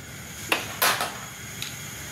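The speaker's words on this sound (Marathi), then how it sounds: "गॅस पेटवून घ्यायचा, गॅस पेटवला।" A gas stove burner is lit with a few sharp igniter clicks, one small snap, then a brief brighter burst, and a last faint tick, all close and quiet in a kitchen with no speech.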